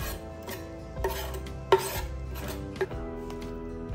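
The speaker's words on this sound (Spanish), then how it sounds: "Pico también un poco de cilantro." A knife chops cilantro on a cutting board in a kitchen, a few sharp taps at irregular intervals over faint background hum, with no voices.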